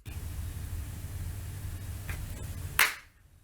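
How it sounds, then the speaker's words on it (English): A single sharp hand clap marks sync near the end of a recording. It cuts through a soft steady hiss, a couple of fainter ticks come before it, and a brief decay follows into near silence. "those big spikes in there are just clap marks"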